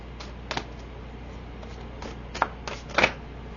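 Tarot cards are shuffled quietly, giving soft papery riffles and taps in a few short bursts over a faint steady background hiss, with no talking.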